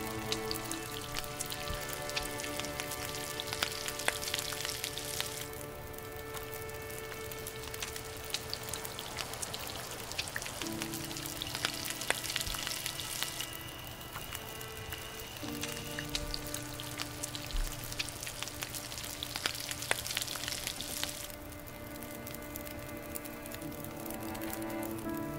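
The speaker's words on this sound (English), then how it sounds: "Cook up my rabbit." Rabbit meat cooking over a fire in The Long Dark: a steady crackling, rain-like sizzle lasting throughout, with shifting layered tones, no talk.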